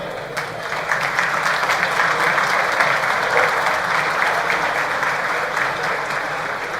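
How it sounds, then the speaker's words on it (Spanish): Steady audience applause welcomes Uruguay's economy and finance minister onto the stage at a breakfast event, a dense even clapping that holds at full strength throughout with no speech over it. "Le damos un fuerte aplauso"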